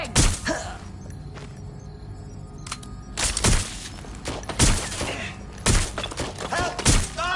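Gunfire in the video game Watch Dogs Legion: repeated sharp bursts of shots and impacts at irregular intervals, fairly loud, with frantic shouting mixed in.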